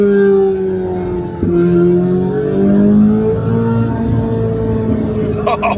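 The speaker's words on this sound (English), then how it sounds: "You can clearly hear the car is a beast, especially when you downshift." A powerful Corvette C8 engine drones with rising and falling revs on a downshift, a sharp blip near the start as the pitch shifts, held at steady volume throughout.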